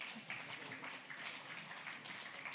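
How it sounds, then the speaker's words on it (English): An audience at a panel conference applauding, with a steady wash of many hands clapping together, continuous and fairly faint, heard from a distance across the hall. "Let's give them another round of applause"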